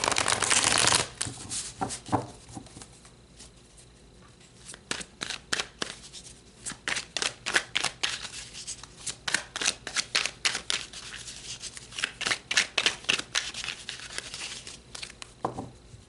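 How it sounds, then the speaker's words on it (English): Tarot cards being shuffled by hand: a loud riffle at the start, then rapid, crisp flicking and slapping of cards in repeated bursts, close up and with no talking. "So let's pull you some tarot to go with these oracle cards"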